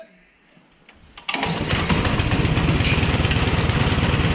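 A snowblower engine catches after a quick pull of the recoil starter, leaping from quiet into a loud, steady, rapid putter close by that keeps running evenly.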